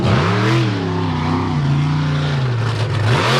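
A Lucas Oil Bigfoot monster truck engine roars loud and close at a 4-wheel jamboree freestyle event in Indianapolis, its pitch climbing, dipping and surging again in steady revving waves with no talk over it.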